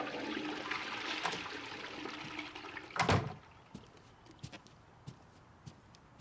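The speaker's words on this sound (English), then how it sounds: "That he's flushing a toilet at the beginning of his music video?" A toilet flushing at the opening of a music video: a broad rushing hiss of water for about three seconds ends in a loud gurgling surge, followed by quieter scattered knocks and clicks.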